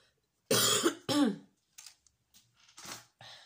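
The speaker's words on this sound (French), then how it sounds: "Je tousse et tout." Two loud, harsh coughs close to the mic, followed by a few faint scattered noises and quiet breaths.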